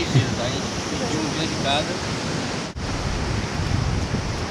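Ocean waves on a quiet, empty beach in Itacaré, Bahia, a continuous washing roar of surf mixed with wind buffeting the microphone, with a few brief voices early on.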